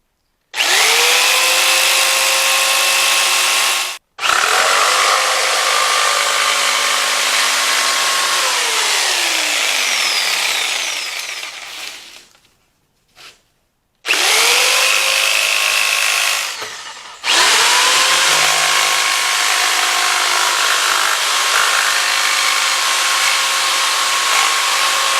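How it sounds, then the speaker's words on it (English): A power jigsaw cutting through wood, a loud, steady high-pitched whine with rising and falling pitch over two long runs, stopping briefly in between before starting up again. "I'm going to get the last little bit with the jigsaw because circular saw is a little bit much for this."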